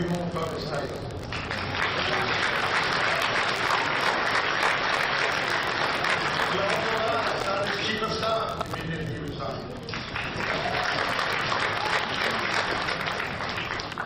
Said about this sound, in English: The claps were even louder